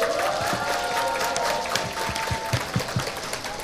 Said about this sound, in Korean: 여러분의 힘찬 박수와 함께 시작하겠습니다